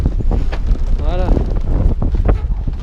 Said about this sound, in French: Le vent il est trop fort.